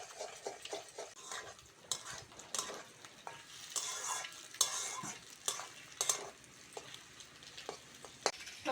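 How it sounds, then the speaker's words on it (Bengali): Eggs and vegetables stir-frying in a wok for chow mein, a steady sizzle broken by repeated scraping and clacking strokes of a spatula against the pan, close and fairly loud with no talk. "সবজির সঙ্গে ডিমটা ভালো করে ভেজে নিয়েছি"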